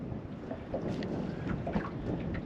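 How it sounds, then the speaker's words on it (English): Wind on a river during a fishing trip, a low, rumbling gusty buffeting against the microphone, fairly faint and continuous through the short stretch, with no talking. "I was really hoping that wind would have started dying off by now."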